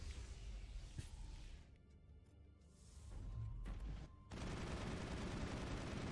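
Video game turrets open fire: a brief sharp shot, then a lull and finally a loud sustained burst of rapid gunfire that keeps going to the end.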